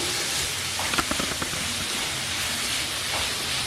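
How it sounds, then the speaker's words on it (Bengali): Chopped onions fry in a pan over a medium flame, giving a steady, close hiss like light rain, with a few brief crackles near the start and no talking. "পেঁয়াজটা মিডিয়াম ফ্লেমেই ভাজবো।"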